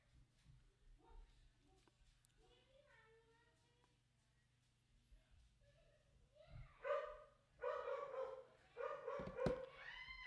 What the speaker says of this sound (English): Now my dog is really going crazy in the background.